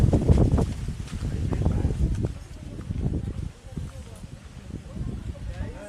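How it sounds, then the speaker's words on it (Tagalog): Strong wind buffets the microphone at a hilltop cafe in San Jose, Negros Oriental, producing gusty low rumbles that surge and fade, with a voice heard faintly between gusts. "Kaso ang lakas ng hangin."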